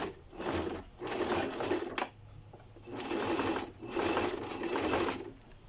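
A sewing machine runs a short reinforcing backstitch on the seam of a princess-cut bodice, with steady whirring bursts of stitching broken by brief pauses as it reverses direction, close and clear with no talk.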